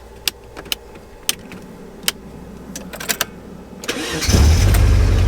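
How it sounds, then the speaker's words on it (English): A few sharp clicks and rattles, then a bagged Volkswagen Jetta's engine, run off a jump starter after a breakdown, cranks, catches and settles into a loud, steady running rumble close by. "this one should start the car"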